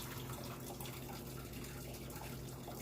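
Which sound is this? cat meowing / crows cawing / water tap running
water tap running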